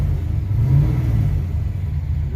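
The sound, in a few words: 1969 Chevy Nova coupe engine revving on test drive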